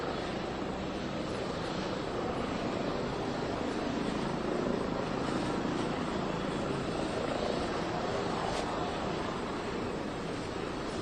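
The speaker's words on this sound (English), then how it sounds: "We're watching Luigi Mangione, who was in a private plane from Philadelphia to New York, and then 5 helicopters from New York helicoptered him in." Helicopters fly over New York, giving a continuous loud rotor and engine roar that holds steady throughout without any voices on top.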